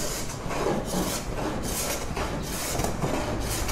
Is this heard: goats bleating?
no